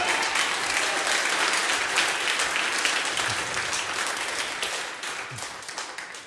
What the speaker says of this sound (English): Please give y'all a round one of applause for Mr.